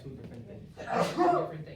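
A single sneeze bursts out during a classroom humanities discussion, a sharp breathy blast following a moment of speech, with people talking before it.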